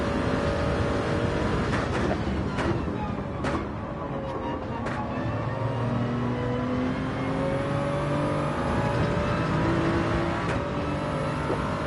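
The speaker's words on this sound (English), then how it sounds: "Just as the turbo's spooling up." Race car in the Gran Turismo game on the Dragon Trail circuit, pulling out of a corner with light throttle and then building speed as the turbo spools up, a continuous engine whine that rises and shifts over twelve seconds.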